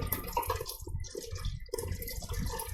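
Rice vinegar poured over the back of a spoon onto cooked rice for karaage chicken, a steady close liquid splash and trickle that runs through the clip with a brief break in the middle.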